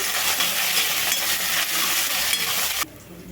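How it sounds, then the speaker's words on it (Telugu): Tempering of green chilli pieces, dried red chillies, crushed garlic and curry leaves frying loudly in a pan, a steady dense sizzle with stirring scrapes that cuts off sharply near the end, no voices. "తాలింపు బాగా వేగాలండి"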